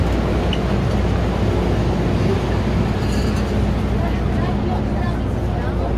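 Cabin of a packed train in Hong Kong, a steady rumbling hum of the moving carriage with dense background crowd murmur throughout.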